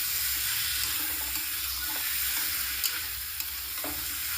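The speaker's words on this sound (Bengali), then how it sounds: "এবার ভালোভাবে মশলার সাথে এটাকে মাখিয়ে নিচ্ছি।" Chicken stirred and coated with spices in a hot cooking pan, a constant bright sizzle with occasional soft clicks of a spoon against the pan, close and steady with no talking.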